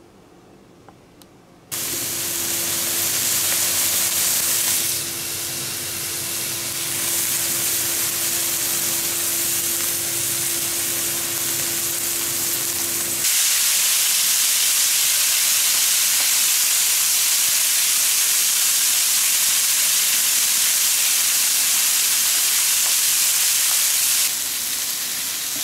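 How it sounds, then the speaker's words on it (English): Lamb with onions and vegetables frying in a smoking pan, a loud, steady broadband hiss and sizzle that swells abruptly after a quiet start and keeps roaring, with a low hum under the early part; no voices. "Fry off all those goodies."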